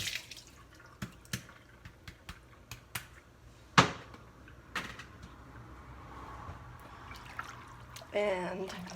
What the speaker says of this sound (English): Now I'm going to put it in some ice water.